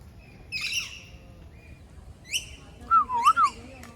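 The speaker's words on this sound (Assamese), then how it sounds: "এইফালে এইটো ভাটৌ" A parrot at a zoo gives a few sharp squawks and whistled calls, with a brief pause between bursts, fairly close against quiet background noise.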